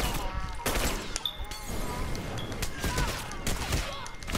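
Video game gunfire crackles in dense, rapid bursts and overlapping shots, moderately loud and continuous across the whole stretch, with some voices faintly mixed in.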